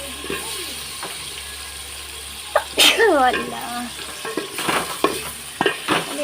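Potatoes and spices fry in a pan, a steady sizzle with scraping stirs and a few sharp spits, while someone talks over the cooking.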